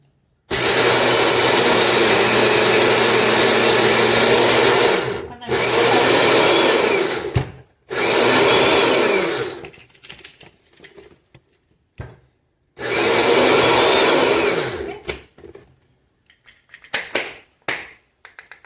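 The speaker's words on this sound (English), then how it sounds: "I'm going to start out with the small mini processor, which has some walnuts in it." A small food processor grinds walnuts, whirring loudly in several long bursts with grinding and rattling nuts, separated by brief pauses and a few short pulses near the end.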